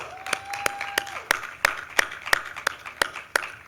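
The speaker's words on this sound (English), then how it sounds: "A big round of applause for all our panelists" A few hands clap at a steady, evenly spaced beat for conference panelists at a Georgetown University HIV prevention session, crisp and fairly close, with a brief steady tone sounding under the first second.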